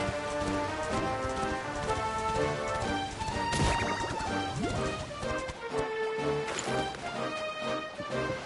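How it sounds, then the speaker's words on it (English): A horse gallops in Dragon Quest XI, its hoofbeats a fast, dense patter mixed under bright game music and a loud crash-like swell partway through. "call up our faithful steed so we can go from one stallion to another"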